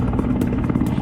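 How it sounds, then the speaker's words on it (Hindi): Chinook and MI-17 V5 helicopters fighting a forest fire give a loud, close, continuous rotor thump with rapid rhythmic chopping, no voices over it. "जिसके लिए चिनूक और MI-17 V5 हेलीकॉप्टरों को ऑपरेशन में लगाया गया है।"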